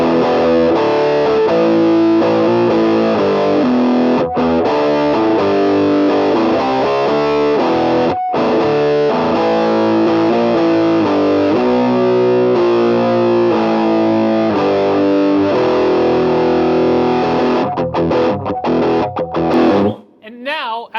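A loud distorted electric guitar played through a Boss DS-2 distortion pedal, with dense chords and riffs held steady for about twenty seconds before cutting off into a short noisy tail.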